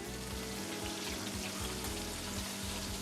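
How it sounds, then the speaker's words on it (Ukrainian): Steady bubbling and sizzling of water boiling in a pot, a continuous close hiss with low gurgling pops throughout. "Та воно кипить уже"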